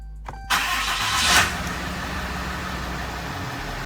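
A 2014 RAM 3500 engine starting after a fuel filter service: a short cranking burst that catches into a loud rise, then settles to a steady low idle, close by with no talk.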